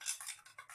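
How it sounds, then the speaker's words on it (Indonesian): Several quick, light clinks and scrapes as a detergent solution is stirred in a container after 1000 ml of water is added, close by and fairly quiet, with brief gaps between strokes. "Aduk kembali."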